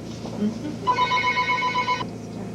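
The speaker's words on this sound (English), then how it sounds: "I forgot where we ended that when that phone rang." A telephone bell rings in a single sustained burst of about a second, steady and fairly close, with people talking faintly around it.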